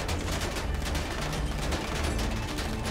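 Dense, continuous gunfire fills a Grand Theft Auto game shootout with steady rapid volleys, loud and close, with no voices over it.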